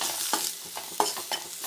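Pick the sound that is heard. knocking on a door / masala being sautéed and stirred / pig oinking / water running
masala being sautéed and stirred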